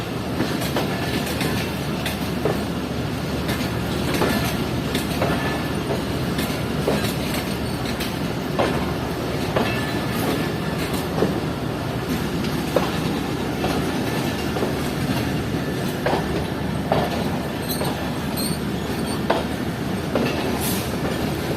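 The Shaheen Passenger train runs along the tracks in a constant loud rumble with rhythmic wheel clatter and occasional sharp clicks, heard from on board.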